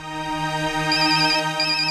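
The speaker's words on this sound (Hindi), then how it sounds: "ऑफिस से फोन है, मुझे जाना होगा।" An electronic phone ringtone plays alone, a sustained tonal melody with a bright, repeating high chime layered over a steady low tone.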